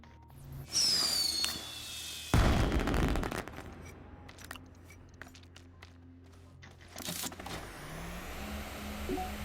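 Fireworks in the video game Astroneer crackle and pop in rapid bursts after a whooshing launch, layered over a steady game ambience with a loud boom near the start.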